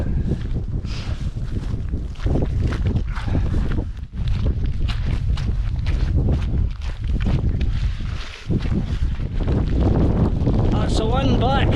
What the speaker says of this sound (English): It's a bit flappy on the tent.